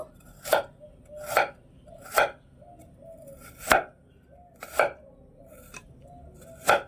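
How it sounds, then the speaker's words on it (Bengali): A knife cuts thin slices of peeled turmeric root on a board in a series of crisp, evenly spaced chops, about one per second, close and clear with quiet gaps between. "একটু হলুদের খোসাগুলো একটু ছাড়িয়ে নেব একটু পাতলা পাতলা করে কেটে নেব"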